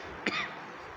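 One short, sharp cough, quiet and close, breaks the faint room hiss during an Urdu religious lesson.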